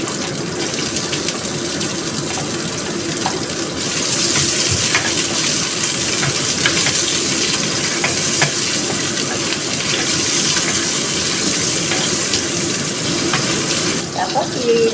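White onion frying in hot oil in a wok-style pan, a loud, steady, close sizzle that holds for the whole stretch with little change.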